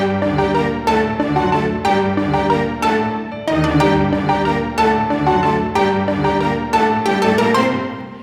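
Piano chords struck steadily on each beat, full and resonant, in a moderate repeating pulse with no voices.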